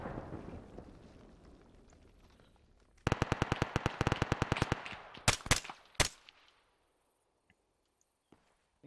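A long burst of automatic gunfire in Arma 3, sharp and rhythmic, followed by a few louder separate shots, then near silence with faint distant pops; no talk.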